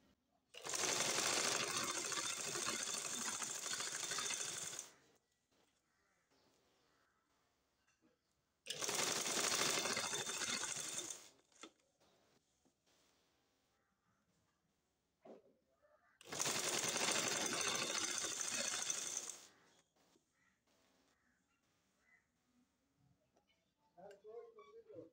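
A sewing machine stitching ribbon onto a blouse runs in three steady whirring bursts of a few seconds each, with quiet pauses and faint handling sounds between them.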